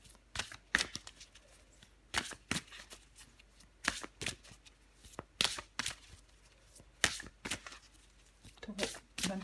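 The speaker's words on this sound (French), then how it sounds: "Je vais encore tirer une carte pour vous, les taureaux." Tarot cards being shuffled by hand in a series of sharp riffling bursts at irregular intervals, close and fairly quiet, with brief pauses between shuffles.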